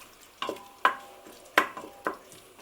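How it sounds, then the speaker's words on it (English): Water hits the hot base of an Instant Pot for baked beans, giving several short bursts of sizzle and scraping, close and uneven, with quiet gaps between them. "And that will deglaze the bottom."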